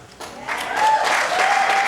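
A hometown meet-the-candidates forum audience bursts into applause after a candidate's statement on paying teachers. The clapping starts suddenly and holds as a full, steady crowd ovation.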